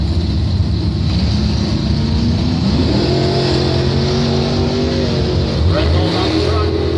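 A 1986 Camaro drag car roars off the line at a drag strip, a loud, close engine bellow with rising revs and a shift in tone midway, heard under a track announcer's commentary.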